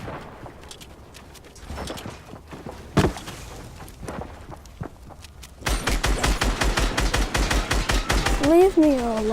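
Rapid bursts of automatic gunfire from a video game fill the second half, loud and rhythmic, after scattered single shots and thuds; a voice speaks faintly underneath.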